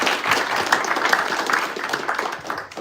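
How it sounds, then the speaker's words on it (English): An audience at a tech industry event breaks into a brief burst of applause for the event's creator, dense clapping that swells and then begins to fade near the end. "I will first request we have a huge round of applause for the creator of this event"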